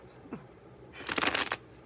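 A brief riffle of tarot cards being shuffled, a quick flurry of crisp flapping that ends abruptly, close and clear in a quiet room.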